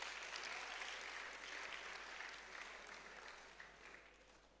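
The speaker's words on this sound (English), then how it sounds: "she deserves another round of applause" Sustained audience applause at a university valedictory programme held by a zoology department, faint and somewhat distant, slowly thinning toward the end.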